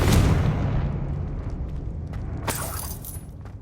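A Confringo fire blast spell is cast in the Hogwarts Legacy video game, giving a loud booming burst at the start that rumbles on with crackling texture and a second sharper burst partway through.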